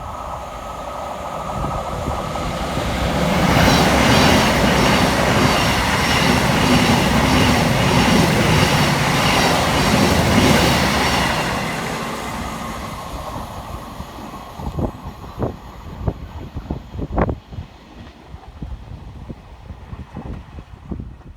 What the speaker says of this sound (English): Next flying through the station for Thameslink is 700 130, working 9 Sierra 28 from Brighton through to Cambridge.